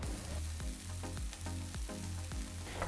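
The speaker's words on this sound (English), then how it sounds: "I'm just gonna toss them in, and then in with our stir fry sauce" Beef noodles sizzle and hiss in stir-fry sauce in a hot pan, with steady rhythmic tossing scrapes throughout, close and fairly quiet, no talking.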